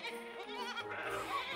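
Young children at a pre-K church service imitate sheep, a chorus of wavering bleating voices going baa together, fairly loud and close, continuing for over a second.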